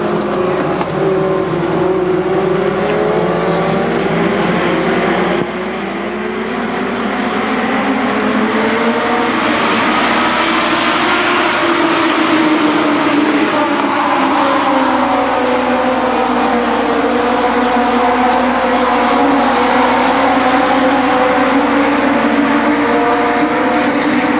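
Race cars lap the oval at Columbus Motor Speedway during the fall Speedfest, a loud continuous roar of engines with rising and falling pitch as the pack streams past, filling the whole stretch.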